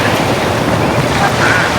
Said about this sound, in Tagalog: Dito tayo sa tabing dagat.